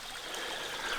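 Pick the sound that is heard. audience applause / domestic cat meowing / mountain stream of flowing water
mountain stream of flowing water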